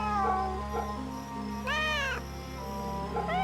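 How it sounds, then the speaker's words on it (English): A cat meows in the video game Fate/Samurai Remnant as it is petted, a couple of clear, drawn-out meows rising over steady game music and ambient hum, with no talking. "I've gotta stop and pet this cat."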